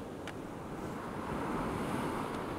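Ocean surf washes up and drains back out in a steady, close rush of water, with wind noise buffeting the microphone and no voices.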